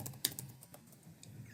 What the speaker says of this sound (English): So let's press F2, and that way we can continue typing.